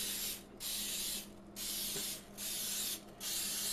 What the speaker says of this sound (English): Got the pan. Need to spray it so nothing sticks.